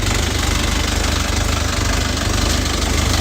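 A Lovol 354 tractor's diesel engine idles steadily and close, with a deep, even throbbing knock and no change in pace throughout.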